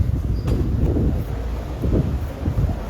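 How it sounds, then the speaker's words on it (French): Steady outdoor wind buffets a microphone with a constant low rumble and roar, loud and unbroken throughout, with no voices. "le petit vent là n'arrange rien"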